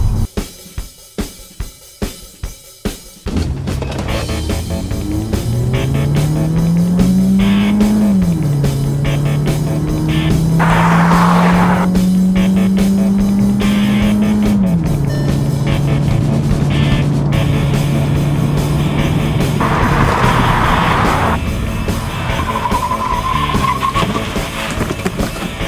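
A Seat Arona FR city SUV launches from a standstill and runs up to 100 km/h. The engine note climbs through several gear changes with clear rising sweeps and brief dips between gears, loud and close throughout, with no voices.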